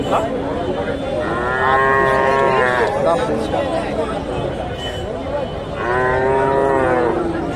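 Friesian heifers moo loudly twice, long drawn-out lows close by, over the steady murmur of a crowd talking at a cattle market.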